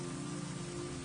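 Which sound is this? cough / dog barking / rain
rain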